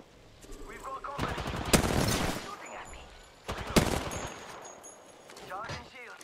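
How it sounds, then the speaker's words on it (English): Gunfire in Apex Legends Season 8, two loud sustained bursts of rapid automatic shots with a softer stretch between them, while a player talks over the action. "combat shooting at me."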